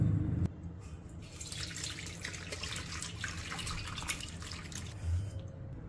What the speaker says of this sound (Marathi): हे पाणी आता आपण गाळून घेऊयात।